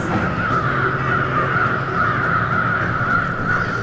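Crows caw continuously in a dense, layered chorus as a motion comic sound effect, loud and steady throughout with no pauses.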